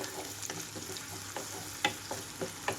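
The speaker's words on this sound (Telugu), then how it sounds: "ఇక్కడ ఉల్లిపాయలు పచ్చిమిరపకాయలు కలర్ మారే వరకు వేయించుకోవాలి" Onions and green chillies frying in a pan, with soft continuous sizzle broken by several sharp scraping stir strokes at irregular intervals, close up and alone.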